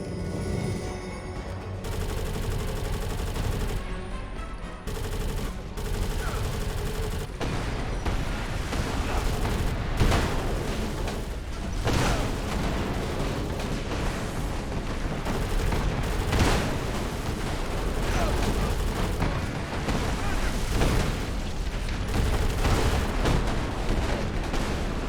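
Rapid, sustained gunfire from a weapon in the video game Avatar: The Game, with dense bursts and booming shots filling the whole stretch, loud and close, with no voice over it.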